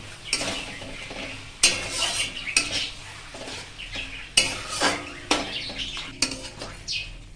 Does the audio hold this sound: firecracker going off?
no